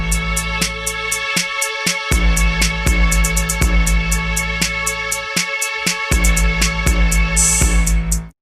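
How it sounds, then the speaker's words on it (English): On a smartphone music sequencer, a major third interval loops as two tones played together, backed by a steady programmed beat with crisp hi-hats, ending in a sudden stop. "if we move this interval to be 3 spaces instead of 2, we'll get a major third."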